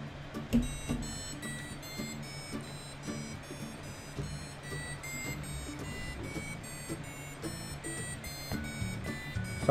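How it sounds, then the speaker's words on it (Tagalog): An Arduino passive buzzer beeps in a steady repeating pattern of short high electronic tones, fairly faint over a low background hum, with no one talking. "So, balik na rin natin itong ating passive buzzer."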